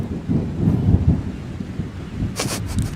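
Thunder rumbles low and steady in a storm sound effect, with a crackling rain burst near the end; no voices.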